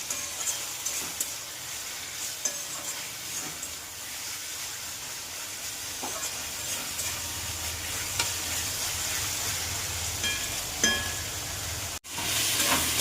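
Food frying in a pan until reddish, with a continuous crackling sizzle and occasional scraping from stirring, all at moderate volume and close by.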